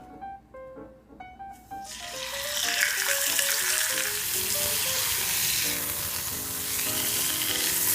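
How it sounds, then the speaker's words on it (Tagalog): Fish frying in a pan with a loud, steady sizzle that starts after a few soft plucked musical notes and continues with music underneath. "Pinakaunang gagawin po natin, ipiprito po muna natin itong ating isda."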